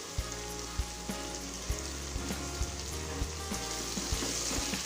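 Chopped cabbage and mixed vegetables sauté in a hot pan with a steady, dense sizzle, broken by regular soft knocks of stirring, and no one speaks.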